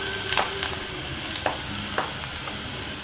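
Garlic and ginger sizzle in hot oil with popped mustard seeds while a fish curry is being started, a steady frying hiss broken by a few sharp pops and light stirring clicks, close and alone with no talk.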